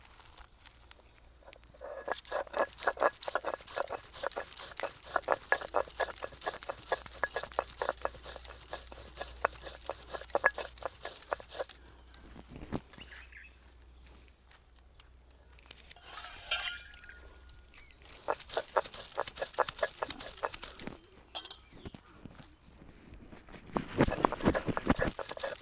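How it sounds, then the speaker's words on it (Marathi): Aloe vera and rose petals are ground by hand on a stone grinding slab, making a steady rhythmic rasp of repeated scraping strokes, close and moderately quiet, with a few short pauses between bursts. "पाट्यावर बारीक व्हायला वेळ लागतो।"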